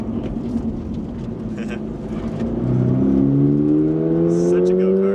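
A 2025 Toyota GR86 Hakone on a track moves from a steady engine drone into a strong acceleration, its engine note climbing in pitch as it revs up, loud and inside the cabin.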